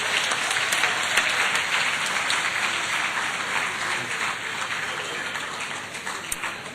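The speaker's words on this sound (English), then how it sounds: "If he's here, let's give him a big round of applause." Audience at an economic summit breaks into loud, dense applause that holds steady for several seconds, a continuous crackling wash of many hands clapping close by.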